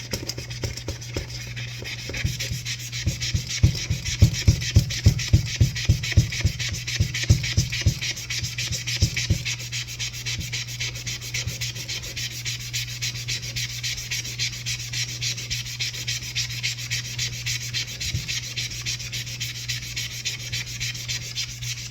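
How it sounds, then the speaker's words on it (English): Magic eraser scrubbing Salomon aggressive inline skates, rapid rhythmic back-and-forth rubbing strokes, strongest in the first ten seconds and then fading to lighter, sparser scrubbing over a steady low hum, close and without voices. "Yeah, it's amazing, this magic eraser, how much it takes off."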